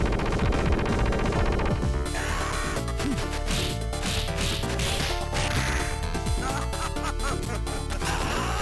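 Mr. X fires a machine gun in the video game Streets of Rage, rapid repeated bursts blended into loud, busy game music the whole way through.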